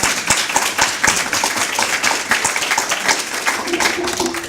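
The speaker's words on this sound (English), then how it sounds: "Give her a round of applause." Loud, sustained applause from a crowd, dense clapping filling the whole stretch without pause.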